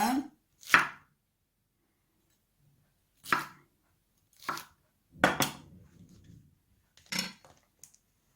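A knife chops red bell pepper on a cutting board, six crisp, close, separate knocks spaced irregularly with silent gaps between them, one followed by a brief soft rustle.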